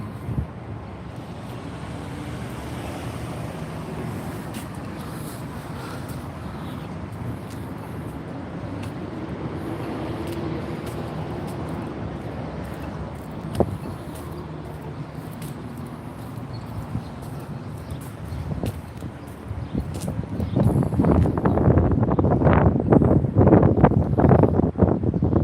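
Wind blowing outdoors buffets the microphone in a steady rough rumble for most of the stretch, growing stronger and gustier toward the end.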